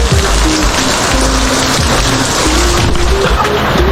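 Heavy rain pours down on a chicken-raising farm in the late afternoon, a loud, unbroken roar of falling water with a faint low tone underneath.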